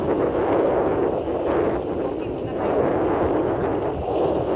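Very strong wind gusting among tall city buildings, a loud, deafening, continuous roar buffeting the microphone with slight swells, no pauses.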